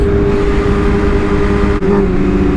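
A BMW M1000RR motorcycle engine holding a loud, steady revving drone close by, with a brief dip near the end, and no talk.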